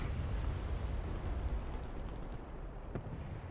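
Rumbling boom of a long 88mm tank cannon firing in War Thunder, a deep, broad roar that fills the clip and slowly fades, with a faint sharp click near the end.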